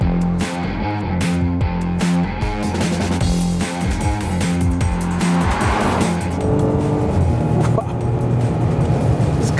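A 2014 Porsche Cayenne SUV corners hard, its engine droning loud and steady with tires squealing through a long bend, heard close and continuous with no talking.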